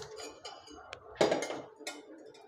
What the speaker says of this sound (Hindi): तो इसके लिए हमने ये कुकर लिया है, कुकर गैस पर रख देंगे